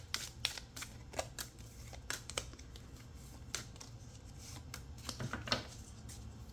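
Tarot cards shuffled by hand in a quiet room, a run of soft papery riffles and taps with brief crisp flicks, close and fairly faint, with no voice over them.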